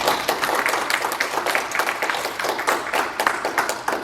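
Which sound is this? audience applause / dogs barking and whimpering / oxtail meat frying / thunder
audience applause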